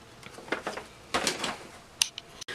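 A Starbucks paper bag being cut, giving a few short crisp snips and rustles in separate bursts, close and fairly quiet, with no talking.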